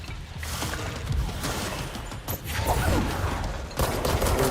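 Sustained automatic gunfire in the video game Control, a dense, loud fusillade of rapid shots with brief lulls, mixed with mechanical clatter and impacts throughout.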